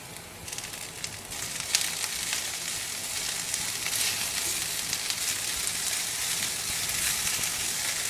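Mint leaves sautéing slowly in a pan on a low flame for mint chutney, a soft continuous sizzle with faint crackles, steady and close, with no one talking.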